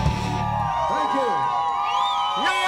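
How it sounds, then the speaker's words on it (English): A television talk show's studio audience cheers and whoops loudly, with shouts and rising voices layered over a steady crowd roar, close and continuous throughout. "Applause, applause!"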